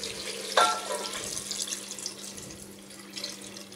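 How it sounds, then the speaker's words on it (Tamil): Water, 800 ml, pours into a pressure cooker holding half a kilo of jeera samba rice for chicken biryani, a steady close splashing stream with a sharper splash at the start. "800 ml தண்ணி ஊற்றிருக்கேன்."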